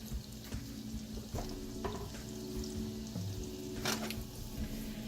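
Celery and onions cook in melted butter as the base for a roux, giving a soft, steady sizzle up close. Light stirring scrapes and an occasional clink of a utensil against the pan break through it.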